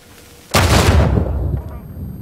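A sudden loud explosion in the Uncharted 4 video game, a booming blast that erupts abruptly and then rumbles and decays over about a second and a half.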